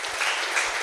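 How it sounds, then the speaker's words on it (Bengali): Audience clapping at a corporate training event, a dense steady burst of many hands applauding loudly and close, with no speech over it. "আমি একটা জোরে হাততালি চাই স্পেশাল"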